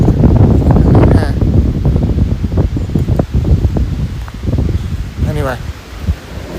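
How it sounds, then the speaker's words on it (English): Strong outdoor wind gusts buffet the microphone in a rough, rushing roar with rustling, fading and surging unevenly, and a voice is briefly heard through it. "I didn't think it'd be this windy."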